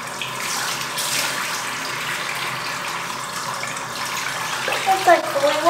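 Water gushes from a tap in a steady, close stream during face washing, with a slight rise and splashing near the end and no talk over it.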